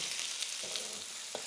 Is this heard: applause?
no